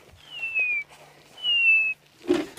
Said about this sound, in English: That's the grey hornbill. He's the one making that lovely whistling sound.